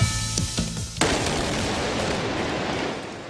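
A controlled demolition blast near the French Quarter in New Orleans brings down two unstable cranes at a hotel construction site: a few sharp cracks, then a loud boom at about one second that decays into a long rumbling roar.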